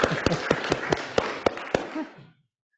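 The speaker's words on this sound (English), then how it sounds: "I think we can also have clap for the fantastic staff" A conference audience applauds the staff after a lecture, with brisk clapping and a few louder claps that thin out and stop abruptly, leaving silence.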